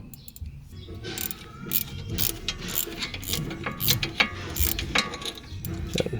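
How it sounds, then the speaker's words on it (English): Wrench turning the nut on a BMW sway bar link lubricated with WD-40, rapid ratcheting clicks in short bursts, close and crisp, with no talking. "you just hold the wrench while you're turning"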